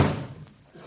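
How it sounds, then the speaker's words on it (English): A single sharp door slam from a radio show sound effect hits loudly at the start, then decays into a brief muffled tail. "Look, will you please stop slamming the door"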